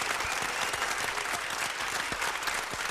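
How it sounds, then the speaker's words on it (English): A dense, sustained round of applause from a crowd, loud and continuous for several seconds with scattered sharper claps standing out and no talking over it. "give that man a round of applause"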